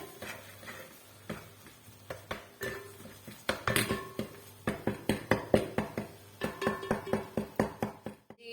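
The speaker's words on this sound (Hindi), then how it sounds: "हम इसको थोड़ा सा और क्रश कर लेते हैं अपने स्पून की मदद से" A spoon pressed and knocked against a pot while crushing cooked rice for kheer makes a string of sharp metallic clinks and taps, uneven at first and then a faster rhythmic pounding that is close and clear.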